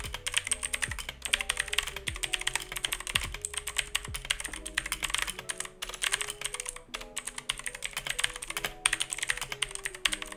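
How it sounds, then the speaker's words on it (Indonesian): Rapid, continuous typing on a clicky Eyooso K620 mechanical keyboard, close and steady, with crisp key clacks and no voices. "menurut gua ini adalah keyboard yang cukup clicky"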